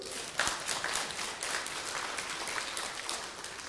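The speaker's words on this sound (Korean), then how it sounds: "아니 여러분이 우승한 거 아니래도 좀 박수 좀 세게 쳐줘봐." An audience in a lecture hall breaks into applause, a dense, steady crowd clapping that starts with a sharp burst and carries on evenly, fairly close, with no talk over it.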